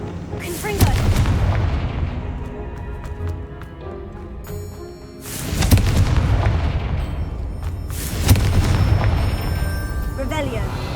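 Fiery Confringo blast spells erupting in the Hogwarts Legacy video game, three heavy booming explosions spaced a few seconds apart over a continuous rumbling game soundscape, loud and close.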